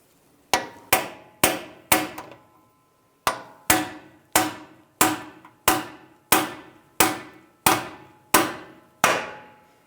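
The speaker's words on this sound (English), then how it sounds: "We're going to tap it in." Hammer tapping a rear axle seal into a 2011–2018 Ram 1500 with a bearing installer: a dozen sharp, ringing metallic strikes at a steady pace, with one short pause early on, close and clear.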